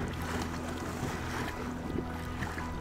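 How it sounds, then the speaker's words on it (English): Wind-whipped, whitecapped waves slap around a kayak on Ridgway Reservoir in Colorado, a steady broadband rush of water and gusting wind buffeting the microphone throughout, close and continuous with no voices. "It's been wavy and white cappy like this for the last 20 minutes."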